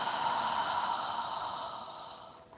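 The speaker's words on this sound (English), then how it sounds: "inhale through your nose and exhale through your mouth. Take long, deep breaths." A single long, deep exhale rushes out through the mouth, breathy and close, fading smoothly over a couple of seconds during a yoga breathing exercise.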